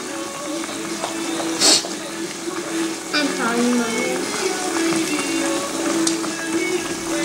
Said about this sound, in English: You can see the beef cooks pretty quick.